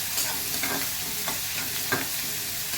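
Chopped onion sizzles steadily in hot oil while being sautéed for a radish bhaji, with a few soft spatula strokes stirring it in the pan.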